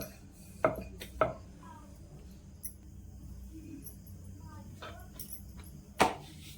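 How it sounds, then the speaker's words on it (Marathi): A chapati is rolled out on a wooden rolling board, giving a few soft, close knocks and thuds at irregular intervals over a quiet background. "पोळपाटाचा थोडासा आवाज येतो"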